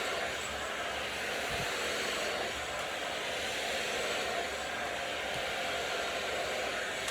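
A hair dryer runs with a steady, even whoosh during a blow-dry of a blunt haircut. The airflow noise stays constant and fairly close, with small changes in tone as the nozzle moves down the hair.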